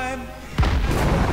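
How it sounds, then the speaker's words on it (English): A sudden deep boom bursts out in South Park: The Stick of Truth, followed by a sustained rumbling roar, after a soft musical game tone. "Man, that's a nice new explosion."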